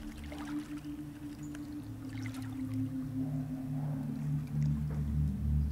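Water trickles and pours steadily through a calm nature soundscape, sitting over a continuous low droning hum with no voices.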